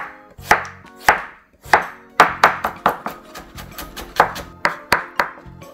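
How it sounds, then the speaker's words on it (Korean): A knife cutting zucchini into thin julienne strips on a cutting board, a series of sharp, close knocks that come in irregular bursts, sometimes quick and clustered, sometimes spaced apart, with no talk. "호박도 얇게 채를 썰어주시면 돼요."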